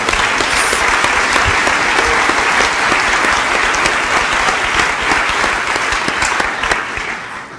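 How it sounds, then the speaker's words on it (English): Loud, sustained applause from a large audience, steady clapping throughout that tapers off slightly at the end. "Let's give him a big applause for."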